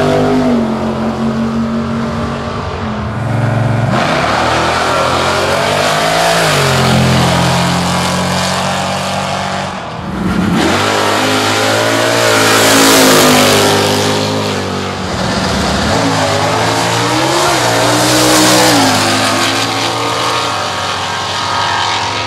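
Cars accelerating down the Quarter Aces Dragaway at a laid-back local drag racing meet with no set classes: a loud, continuous engine roar with repeated revving surges as each car launches and pulls away.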